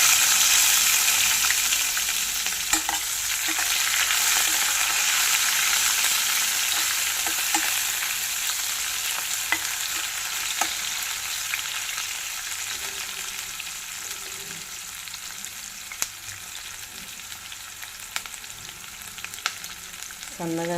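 Curry leaves spluttering and frying in hot oil in a pan for upma, a steady bright sizzle with scattered pops and crackles, close and continuous without talk.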